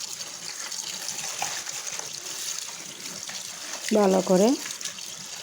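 Ash gourd leaves washed under a running kitchen tap, a steady close stream of water splashing throughout, with a brief spoken phrase near the end.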